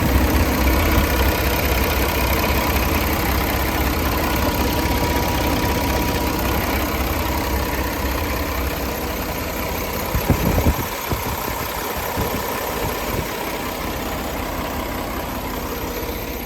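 A 2018 Peterbilt 389 truck with a Paccar 510hp engine and 18-speed transmission idles steadily, a constant deep diesel rumble, close and even throughout, with a brief clunk of handling noise partway through.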